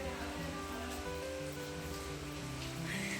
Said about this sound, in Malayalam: രാവിലെ തന്നെ ഇവിടെ നല്ല മഴയുണ്ട്.